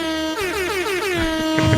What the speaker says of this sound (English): Thank you to our resident air horn specialist, Sunny.